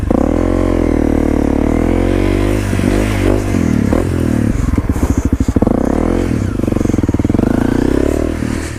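A motorcycle doing a foot-down donut turn-around, close by: a loud, rough engine that revs up and down in surges with rattling clatter as the bike spins and recovers.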